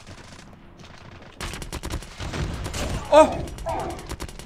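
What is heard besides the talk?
sentry gun firing in the Call of Duty Mobile video game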